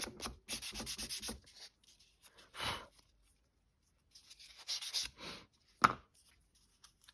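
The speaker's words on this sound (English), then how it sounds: "I'm just going to sand them because they really are quite rough" Rough paper triangle pieces for an origami exploding card being sanded by hand: short bursts of close, scratchy rubbing strokes, pausing in between, with a brief sharp tap near the end and no talking.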